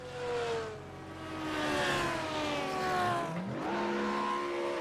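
Race car engine revving at a pit stop during a Barcelona race, rising and falling in pitch as the revs climb, with a sharp upward sweep near the end, moderately distant.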